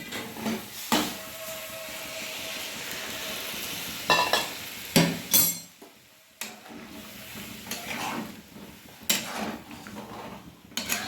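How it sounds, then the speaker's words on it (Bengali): Hot water poured into a pot of browned mutton curry gives short bursts of sizzling and bubbling over a steady frying hiss, with a few clinks of a spoon against the pot; nobody talks. "আমি মাংস ঝোল করার জন্য আমি গরম জল দিয়ে দেবো"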